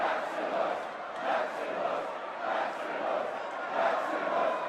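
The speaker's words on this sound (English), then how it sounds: "The crowd begins to chant," An arena crowd of spectators chants in a repeated rhythmic pulse, roughly one swell per second, a massed roar of voices rising and falling steadily and fairly loud throughout.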